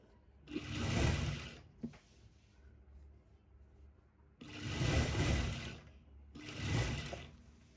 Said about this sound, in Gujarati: તો હવે ત્યાંથી જ આપણે સિલાઈ લગાવીશું